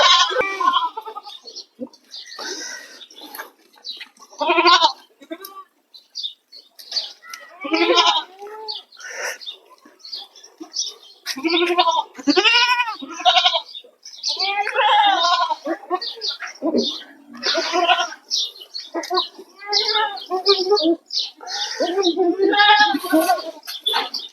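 Goats and their three-and-a-half-month-old kids bleat repeatedly nearby, overlapping wavering cries coming in bursts with brief pauses between calls.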